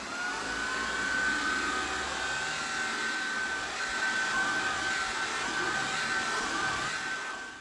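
Shark IZ201UK cordless vacuum cleaner running on thick pile carpet, a steady close whooshing motor drone with a faint high whine, constant in level throughout, no voices.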